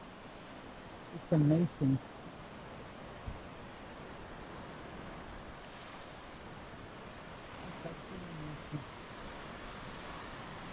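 Waves roll onto Lagoufa Beach in Crete as a steady, broad wash of surf with some wind, while a person speaks briefly near the start and again later.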